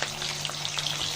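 Ginger, garlic and cumin paste fries in hot oil for haleem, giving a close, steady sizzle with bubbling crackle and no talk over it.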